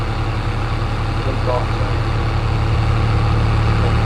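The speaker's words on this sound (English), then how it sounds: "This would be the most suitable tractor now." A tractor engine idles in Farming Simulator 22 with a steady low rumble and a constant mid-pitched hum, loud and close. Someone speaks briefly over it.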